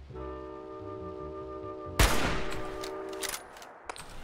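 Gunfire in the video game Fallout 4: a sudden sharp shot bursts out over a steady droning background tone, followed by a scatter of quieter cracks and ringing tails, moderately loud.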